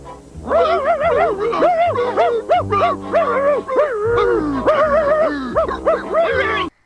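A person imitates a dog, producing a run of loud, repeated yelping barks and whimpering howls that fill the whole stretch, with other people's voices faintly underneath.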